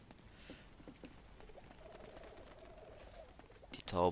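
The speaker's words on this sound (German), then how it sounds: "Die Tauben verschwinden." Pigeons cooing and then a burst of wing flaps as they take off in the Uncharted video game, soft coos and light patter giving way to a loud close flutter at the end.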